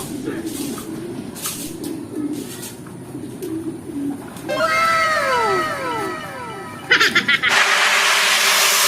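Pigeons coo softly in a low, repeated murmur. Partway through, other high swooping calls rise over them, and near the end a burst of loud rustling noise drowns everything out.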